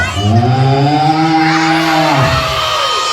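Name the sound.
cow mooing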